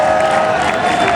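Audience at a band voting announcement during a youth music festival breaks into loud, steady applause with cheering, a dense continuous crowd roar held close for the whole moment.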